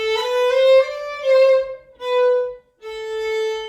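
Four bowed string notes played staccato, short and detached, with clear brief gaps between each, heard alone without any voices.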